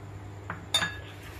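A spoon clinks against a bowl while mixing batter for a Goan filoz, two or three light metallic taps close up over a faint low hum.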